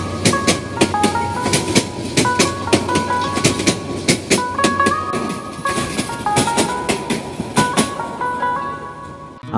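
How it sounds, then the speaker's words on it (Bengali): The Mohua commuter train between Dhaka and Mohanganj rolls along the rails with loud, rhythmic clickety-clack as the wheels strike the rail joints, over a steady rumble heard from on board. "আমাদের যে ট্রেন এটি হলো মহুয়া কমিউটার ট্রেন।"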